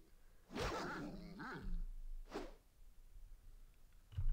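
Growling and snarling from a dog in a Baldur's Gate fight, a loud harsh burst followed by a shorter second growl, with game combat noise faintly underneath.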